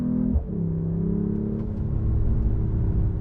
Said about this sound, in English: got a load of pops and bangs coming out this 6-cylinder